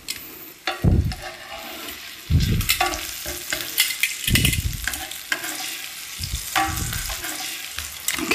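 Pineapple slices sizzling in a frying pan, with a steady frying hiss and several loud scraping bursts as the slices are moved and flipped.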